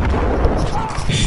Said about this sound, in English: Immediately get sniped.